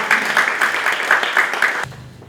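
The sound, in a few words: audience applause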